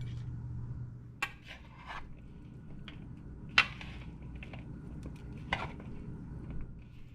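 Italian dressing being mixed in a kitchen, with soft scattered clinks and taps of a utensil against a container over a low steady background hum, fairly quiet and intermittent.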